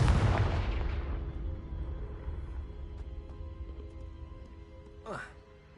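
A Confringo blast spell goes off in the Hogwarts Legacy game, a loud burst at the start that fades into a long rumbling tail, with a brief whooshing sweep near the end.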